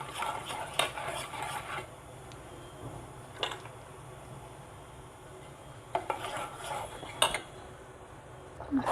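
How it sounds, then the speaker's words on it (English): A spoon stirs a gram flour and wild turmeric mixture into melted soap in a bowl, giving intermittent scraping clinks and taps against the container amid a soft steady background, fairly close. "I will mix little I will put in the soap and I will mix it well."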